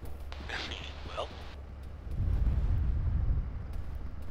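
Far-off explosions from an air strafing attack on a hill roll in as a deep, rumbling boom that swells after a brief spoken exchange and lingers for a couple of seconds.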